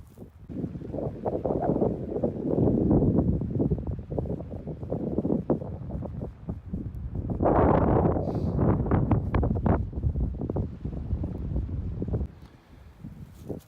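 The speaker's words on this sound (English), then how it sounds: "there's a lot of wind" Strong wind buffets the microphone on an early-season hike in Kananaskis, roaring in long loud gusts with a brief lull in the middle, and no voices.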